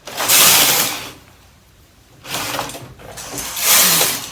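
A Brother KH930 knitting machine's carriage sweeping across the needle bed while making lace stitches, three loud mechanical rasping passes separated by quieter gaps, heard close and alone.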